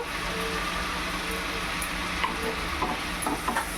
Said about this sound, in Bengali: সব কিছু ভালো করে কষিয়ে নিতে হবে।